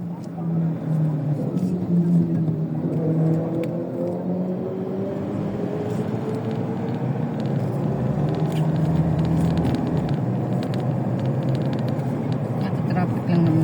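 Street traffic rumbles steadily nearby, with car engines idling and revving and vehicles passing, while people talk over it.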